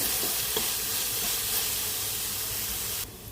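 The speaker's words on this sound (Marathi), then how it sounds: "हिंग हळद गरम मसाला आणि मालवणी मसाला हे सर्व घालून घेऊया व्यवस्थित मसाले परतवून घेऊया" Asafoetida, turmeric, garam masala and Malvani masala sauté in a pan for a lima-bean dish, giving a soft, continuous hissing sizzle with faint stirring and no voices.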